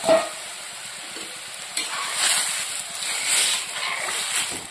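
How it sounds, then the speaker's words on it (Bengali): Mashed boiled potato is tipped into browned fried onions and stirred in a pan, giving a steady sizzle with soft scraping stirs throughout, no talking. "এবার এখানে আমি চটকে রাখা আলুটা দিয়ে দিই।"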